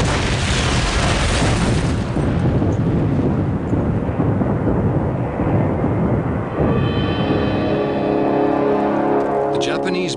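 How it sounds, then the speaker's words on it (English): A Japanese bombing raid on Singapore in wartime brings heavy, rumbling booms that fill the space loudly for several seconds, then fade into a lower roar with a steady tone emerging near the end. "The Japanese bombing raid on Singapore delivered the alarming message to the island's citizens"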